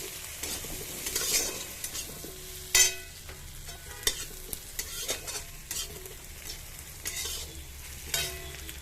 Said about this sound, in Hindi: मैं एथे पकेइची प्याज, सुखिला लंका, किछि चिंगुड़ी माछ एथे पकेइची